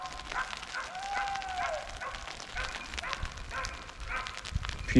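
Hunting dogs bark and yelp in the distance as they chase a wild boar through snowy country, giving faint, scattered cries and whines over a low outdoor background.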